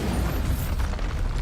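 A Bombarda spell explosion in the video game Hogwarts Legacy, a short loud boom with a rumbling burst filling the whole moment.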